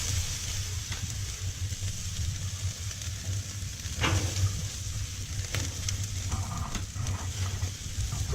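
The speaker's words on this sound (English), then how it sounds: "And then we're gonna flip the steaks so that they were facing up, and face them babies down now." Steaks sizzling steadily on a Gateway Drum grill as they are flipped to cook, a constant close crackle and hiss with a few brief clatters.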